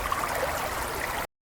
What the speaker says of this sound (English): hold your chosen bubble bar directly under the running tap water as your bath fills